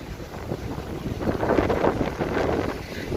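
Strong wind buffets the microphone while crossing a bridge between the two riverbanks in Rouen, a steady roaring rush that swells and eases over a few seconds, with no voices.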